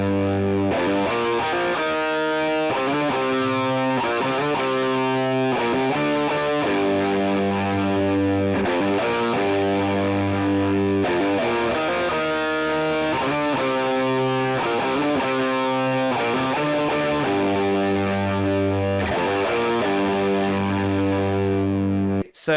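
Electric guitar played with a thick octave effect, low doubled tones under distorted chords in a steady rhythmic pattern, loud and close.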